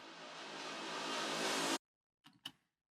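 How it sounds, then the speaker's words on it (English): A reversed reverb tail from a big room techno future rave track swells steadily louder and cuts off sharply, followed by a pause and two faint short bursts. "We just record a long reverb tail with the first note, and we made a reverse and put the beginning of the notes."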